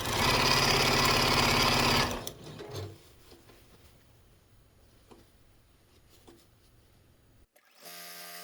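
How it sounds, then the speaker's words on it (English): A domestic sewing machine runs fast and loud for about two seconds while stitching leftover fabric strips together, then stops, followed by quiet handling clicks and a brief final burst of machine noise. "I'm just going to take these and just start sewing them together to build them out and make them wider."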